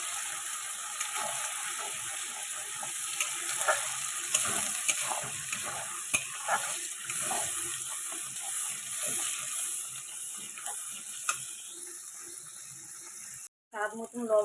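Tomatoes go into hot oil with bay leaf, cloves and cardamom, giving a steady hiss of frying broken by scraping stir strokes, while someone speaks quietly over the cooking.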